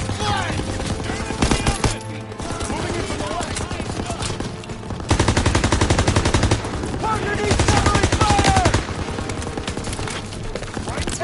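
Sustained machine gun fire rattles in Call of Duty WW2 at Hill 493 in the Battle of the Bulge, loud rapid bursts hammering on and off with brief pauses and shouting voices mixed underneath.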